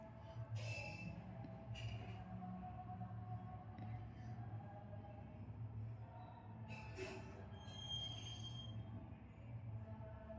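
Train travelling from Bhubaneswar to Visakhapatnam, heard from inside as a low steady rumble with faint clanks and brief high squeals, quiet and continuous.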